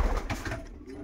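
Pigeons give a brief, low coo close by, partly masked by someone talking over it indoors.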